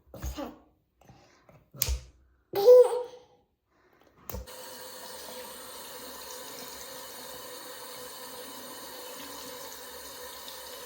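Tap water runs steadily into a sink at home while a child washes hands, a constant close hiss that starts abruptly after a few short bursts of speech and continues alone to the end.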